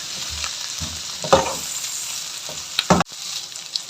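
Green chillies and ginger fry in a pan with a steady sizzle and a few soft stirring scrapes, moderately close, no talking.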